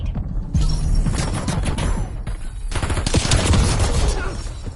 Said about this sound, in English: They're using shotguns.